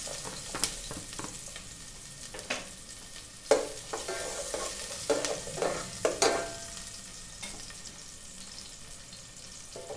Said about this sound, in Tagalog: Ayan, lagyan natin ang sibuyas bawang,